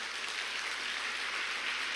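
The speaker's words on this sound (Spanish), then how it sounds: "Darle el aplauso de eso." Applause from a church congregation during a sermon, a steady, even wash of many hands clapping that sounds distant and fairly soft, with no voices standing out over it.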